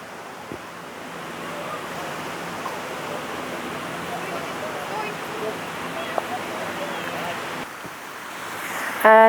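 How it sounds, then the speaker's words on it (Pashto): Water runs over stones in Průhonice botanical park near Prague, a steady even rush of flowing water that continues unbroken throughout, fairly close and moderately loud. "دا اوبه بهیږي، د تیږو باندې لګېږي"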